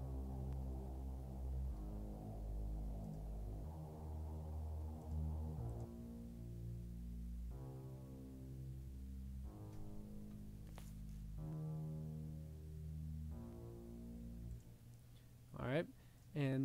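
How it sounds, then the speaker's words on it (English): Two synth bass sounds in a music production session, deep, sustained droning tones that pulse in a repeating pattern, loud and close with no talking. "Then I brought in these two bass kind of sounds."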